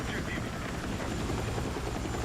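A Black Hawk transport helicopter in Battlefield 6 drones with a loud, continuous rotor and engine roar that holds steady throughout, with talking mixed in over it.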